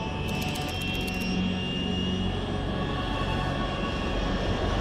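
Steady broadband roar of an aircraft cruising at high altitude over the Arctic Ocean in Metal Gear Solid 3: Snake Eater, a continuous loud engine drone with a brief high-pitched chattering burst near the start and no talking.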